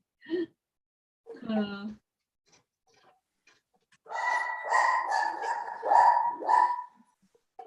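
A person imitates a puppy barking with short yips and a soft whimpering sound, then a run of rapid bark-like vocal ruffs, close and clear against a quiet background.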